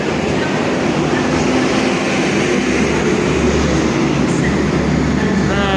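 A Class 175 diesel train pulls out of Crewe station with a loud, close engine roar and rolling rumble that holds steady throughout. A rising whine is heard near the end.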